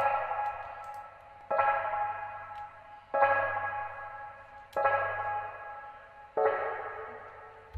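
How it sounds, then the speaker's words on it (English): Four sustained Fender Rhodes electric piano chord stabs strike at even intervals, each ringing out with a warm tone and reverb tail before the next. "it was the Fender Rhodes."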